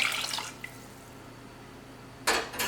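Water poured into a rice cooker holding 3 cups of rice, a short splashing pour at the start and a brief second burst near the end, close and alone.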